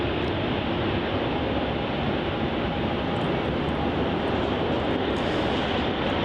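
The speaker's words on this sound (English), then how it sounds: "Coming in now, we have Virgin Australia flight VA 808 from Sydney" Virgin Australia flight VA 808 from Sydney arrives at Melbourne Airport with a loud, steady, broadband jet roar. The roar holds constant throughout and sounds close, with no voices over it.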